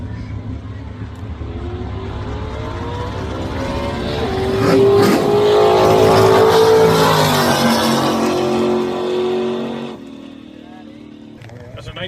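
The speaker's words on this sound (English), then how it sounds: "That's a 1930 Ford Roadster." A 1930 Ford Roadster drives at a racing event, its engine swelling to a loud passing roar midway and then dropping away, with an announcer talking over it.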